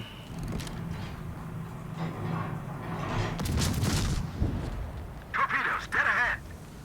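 Naval gunfire in the World of Warships video game: a few heavy booming salvos roll out over steady engine and ambient game noise, with a voice talking over parts of it.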